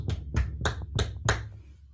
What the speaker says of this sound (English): we're gonna get another round of applause if you can